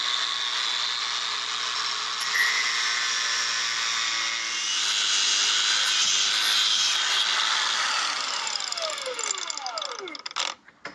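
An angle grinder cuts into an Abus bike lock with a loud, continuous high-pitched whine that holds steady for several seconds, then falls in pitch and sputters as the disc winds down near the end.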